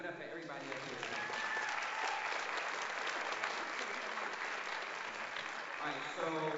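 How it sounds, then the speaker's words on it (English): An audience at an evening talk in Oakland claps for the people on stage, a sustained, even round of applause throughout, with some cheering and voices over it. "Can we clap it up for everybody up here tonight?"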